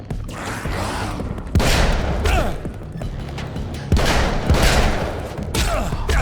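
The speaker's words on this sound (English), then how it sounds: "I am shooting them right there" Video game gunfire in Alan Wake's American Nightmare comes as loud, dense bursts of rapid shots, two main volleys about two seconds apart over a constant rumbling game backdrop.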